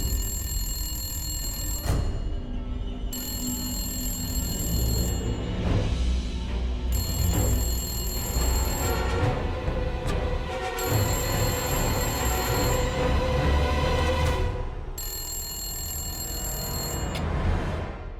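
A telephone bell rings repeatedly in regular bursts with short pauses between, loud and clear, over a dramatic musical background.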